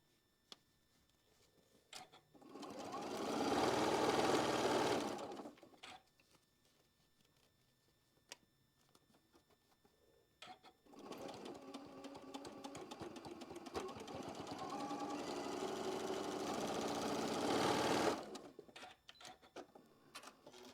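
A sewing machine stitches a quilt block in two steady runs, a short burst and then a longer one, with anchoring stitches. The whirring is moderately loud and close, with quiet pauses between the runs.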